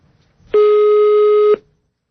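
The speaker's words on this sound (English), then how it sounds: "Okay, still ringing." Hotel telephone line ringing on a call to the Amsterdam Marriott: one steady, loud electronic tone lasting about a second, then silence.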